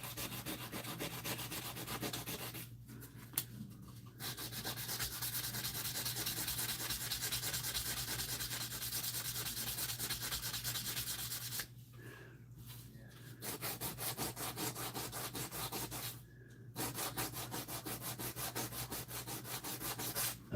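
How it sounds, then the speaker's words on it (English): Steady abrasive rubbing of a sanding wheel grinding a knife's cutting edge up to 800 grit, continuous and close with three brief pauses where the blade lifts off. "I'll do the cutting edge on my sanding wheel. I can get that up to 800 grit."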